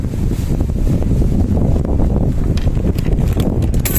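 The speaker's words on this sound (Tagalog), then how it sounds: "ang lamig-lamig, ang lakas ng hangin." Strong wind roars and buffets loudly against the microphone throughout, a steady rumbling gust with no pauses.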